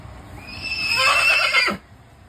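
A mare gives a single loud, close whinny that rises, holds for about a second with a wavering tone, then stops abruptly.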